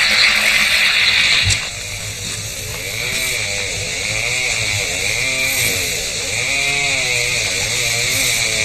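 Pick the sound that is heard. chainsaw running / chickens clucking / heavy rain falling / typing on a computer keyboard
chainsaw running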